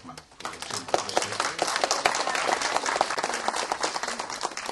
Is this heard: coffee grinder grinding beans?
no